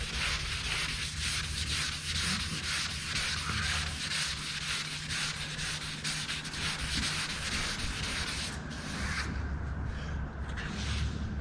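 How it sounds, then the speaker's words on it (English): Continuous hand sanding, a steady, close, abrasive rasping that runs almost unbroken, with a low hum beneath and a few brief pauses near the end. "Who needs a gym when you got sanding?"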